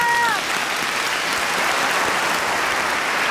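A studio audience on a children's talent show gives a child goalkeeper loud, dense applause that holds steady throughout the short stretch.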